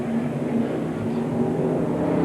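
A 1994 ARCA SuperCar Series race car heads down pit road at Talladega Superspeedway, its engine a steady, fairly loud drone with a slight rise toward the end.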